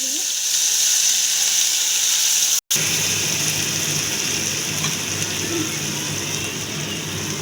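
Ginger garlic paste sizzles and fries in hot oil with cumin seeds and bay leaf, a steady close crackling hiss with one brief dropout partway through.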